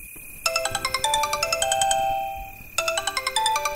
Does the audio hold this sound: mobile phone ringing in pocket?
yes